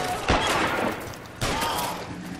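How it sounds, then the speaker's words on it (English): Two sharp, loud gunshots ring out about a second apart in the video game L.A. Noire, each followed by a brief echoing decay. "Another shot."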